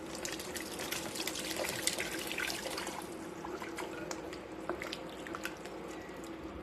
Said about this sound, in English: I've got a quart of turkey broth here that I'm going to add.